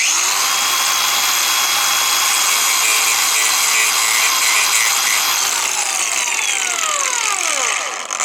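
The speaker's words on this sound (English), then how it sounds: "I have this excellent Makita battery angle driver, what is like now cutting disc" A Makita cordless angle grinder with a cutting disc cuts into a car battery terminal, giving a loud, steady, high-pitched metallic whine and grinding screech that runs the whole time and then winds down at the end.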